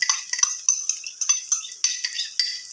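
Chopped garlic sizzles and spatters in hot oil in a kadai wok, with quick metallic spatula scrapes and taps against the pan in an uneven rhythm, close and moderately loud, with no talking.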